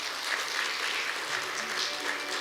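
Sustained applause from an audience after a presentation at an academic conference, an even wash of many hands clapping at a steady level, slightly distant, with no speech over it.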